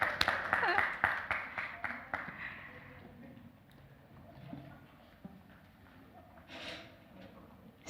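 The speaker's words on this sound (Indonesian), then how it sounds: "Tepuk tangan sekali lagi." Wedding guests at a holy matrimony ceremony break into a burst of applause that fades out after a few seconds, leaving quiet room noise with faint murmurs.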